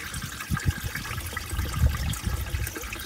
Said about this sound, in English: That many splashes from that 3/16 inch hole I drilled.